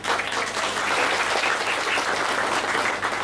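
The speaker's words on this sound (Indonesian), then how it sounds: "Justru hujan tepuk tangan." Dense, sustained applause from a large audience fills the room without a break, loud and steady, with only faint talk underneath, at a Balinese comedy show.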